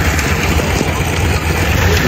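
A tractor engine runs near a road construction site, making a loud, steady low rumble that holds at a constant level with no clear changes in speed.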